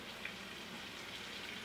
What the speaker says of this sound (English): I can hear the butter sizzling up